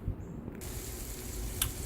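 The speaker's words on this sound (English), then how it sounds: "now we've got our steak on the frying pan" A steak frying well done in a frying pan gives a steady, low hissing sizzle throughout, fairly quiet and close, with no talking.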